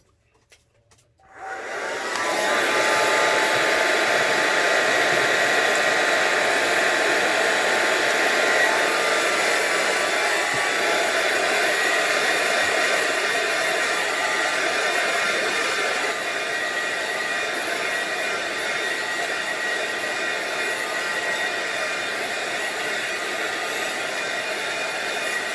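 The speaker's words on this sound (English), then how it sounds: "Okay, so we need to dry that with a dryer." A handheld dryer roars on after a brief quiet start and blows steadily and loudly at close range over an art journal page, holding an even whoosh throughout.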